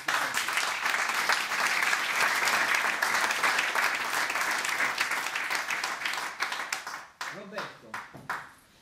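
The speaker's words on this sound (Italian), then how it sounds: "un applauso va." Sustained audience applause at the presentation of a youth football tournament in Battipaglia, loud and even for several seconds before thinning into scattered claps as people begin talking.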